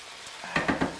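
A paleo pork stir fry in a pan gets stirred: two or three quick scraping strokes over a soft, steady sizzle, close and fairly quiet.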